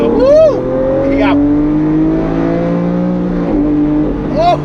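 A Lamborghini Aventador roars as it accelerates hard, its loud, close engine note climbing and then dropping sharply with quick gear shifts before climbing again, with a voice briefly audible over it.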